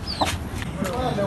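An Aseel hen gives a few soft clucks against steady background noise, heard close but brief.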